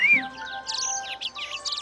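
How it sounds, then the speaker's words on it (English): Cartoon birds chirp and tweet in quick bright bursts, several calls overlapping against a quiet backdrop with no talking. "don't you just love the birds?"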